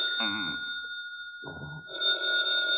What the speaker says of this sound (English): Rick, the phone's ringing.